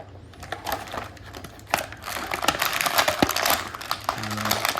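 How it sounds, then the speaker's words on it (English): Plastic packaging of a G.I. Joe action figure crinkles and crackles up close in irregular bursts, growing busier and louder toward the end. "Sorry for the crinkling."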